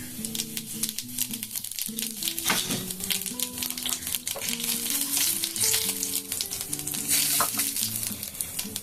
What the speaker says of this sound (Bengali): এই তেলের মধ্যে আমি দিয়ে দিলাম কালো জিরে